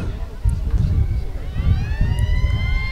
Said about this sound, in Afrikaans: Sirene wat afgaan.